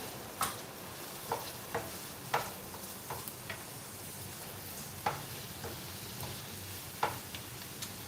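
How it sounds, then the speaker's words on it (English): Parsley root sautés in bacon fat and maple bourbon sauce, a soft steady sizzle marked by scattered sharp taps and scrapes of a utensil against the pan. "I bought some parsley root at the farmer's market, so I'm just sauteing it up"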